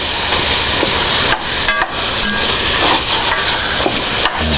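Coney meat sauce browning in a skillet, a loud steady sizzle with scraping and stirring clatter from a utensil against the pan close by.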